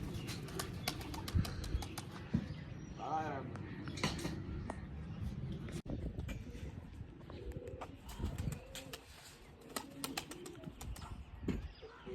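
Pet pigeons in a coop cooing, a low soft rolling coo and scattered chirps with brief wing flaps, heard close by under someone talking throughout.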